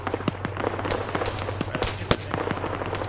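Artillery shells exploding in the military game Arma 3: a steady run of sharp, scattered blasts, some near and some distant, popping irregularly over a low constant rumble.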